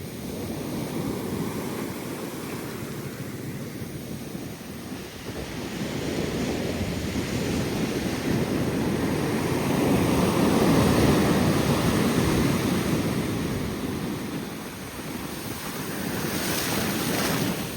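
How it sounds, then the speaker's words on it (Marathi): Large sea waves break and wash continuously on Dahanu beach, a broad roaring surf that swells and eases, mixed with gusty wind buffeting the microphone, no voices. "खूपच मोठा आहे गाईज लाटा."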